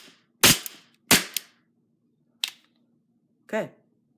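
An airsoft gun fires 0.3 g metal BBs in four sharp, separate cracks over a few seconds, each a loud snap with a short tail, set against a faint steady hum.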